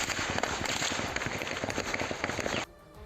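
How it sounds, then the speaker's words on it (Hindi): Rapid gunfire, a dense crackling burst of many shots hitting a house wall, loud and continuous before stopping abruptly near the end. "उस पर दूसरी तरफ से ताबड़तोड़ गोलियां चलती रहीं।"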